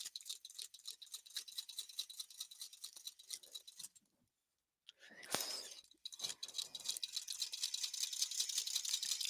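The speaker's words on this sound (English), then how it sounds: "And now I'm going to stitch all the way around my template." A sewing machine stitches around a paisley quilting ruler template, its needle going in a fast, even rapid patter that stops briefly partway through before resuming with some handling noise.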